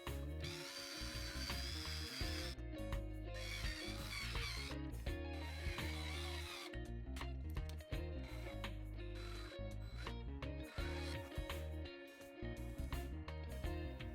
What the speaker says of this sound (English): I start out by drilling out the rivets with two different drill bits